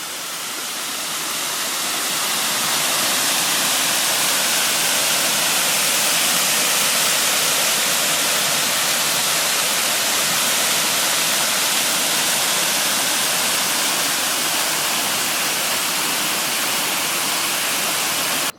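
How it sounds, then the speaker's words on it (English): A waterfall beside the Kaymoor coal mine trail in West Virginia pours in a steady, dense, hissing roar that swells in over the first couple of seconds and then holds constant, loud and near, with no talking. "Pretty waterfall on the way down."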